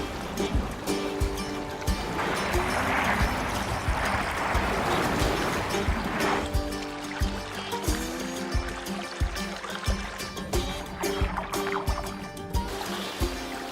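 Water splashes and trickles continuously, with rhythmic knocks and sloshing throughout, fairly loud and close, no talking.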